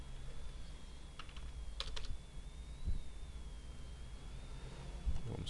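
Keys tapped on a computer keyboard while entering a short drafting command, with scattered quick clicks and a few tight clusters over a steady low background hum.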